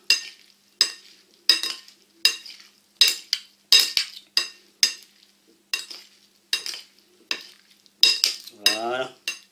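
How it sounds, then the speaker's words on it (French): Shrimp salad with grapefruit, tomato and avocado being tossed with its dressing, a regular series of wet, clinking scoops and scrapes about every half second, close and clear with no talk. "une fois que tout ça, que la sauce est mise, on va bien mélanger tout ça"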